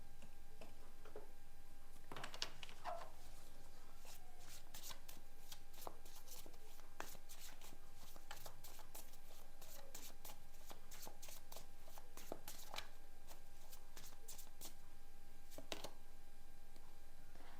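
Tarot cards shuffled by hand give bursts of soft riffling clicks and flutters at irregular intervals, close and fairly quiet, over a hushed room with no talking.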